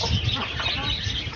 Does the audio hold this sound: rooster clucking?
yes